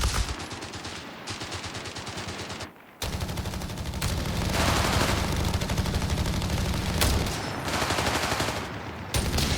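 Sustained machine gun fire rattles in rapid, continuous bursts in a World War II strategy battle at Mignano, loud and dense with brief pauses between long strings of shots.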